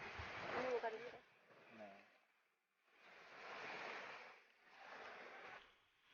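Waves break on a beach beside a campsite in three soft, rolling surges separated by brief lulls. A quiet voice speaks at the start.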